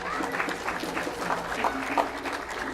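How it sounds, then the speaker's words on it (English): Brief audience clapping at a mental health advocacy event, scattered and uneven with individual claps standing out, while a voice talks faintly underneath. "clap for yourselves"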